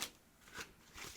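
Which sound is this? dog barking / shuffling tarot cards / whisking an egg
shuffling tarot cards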